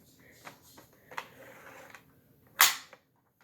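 Dart Zone Magnum X2 Superdrum dart blaster firing foam darts: faint mechanical clicks and rattling of priming, then one sharp, loud pop from the shot with a short tail, and no talking.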